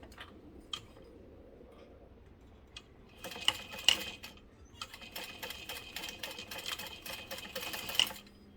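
A sewing machine stitches a zipper sandwich with an exterior tab, starting after a quiet pause with a rapid mechanical chatter in two close bursts, steady and fairly near, with no talking.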